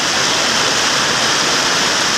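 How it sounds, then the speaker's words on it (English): Storm water runoff rushes downstream through a channel into whitewater rapids, a loud, steady broadband roar of fast-moving water that holds constant and close throughout, with no other sounds. "Look at that water go down there. That is moving fucking quick."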